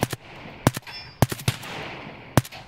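Gunfire in Escape from Tarkov, a few sharp loud shots fired in quick pairs and singles, close and punchy with brief echoing tails and no talking.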